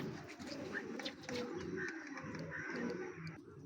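A large pigeon and others nearby give soft, low, repeated coos, fairly close but quiet, with light bird sounds mixed in.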